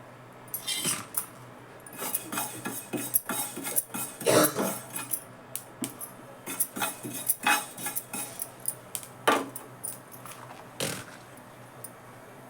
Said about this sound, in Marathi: मी तोपर्यंत हे कारळे भाजून घेते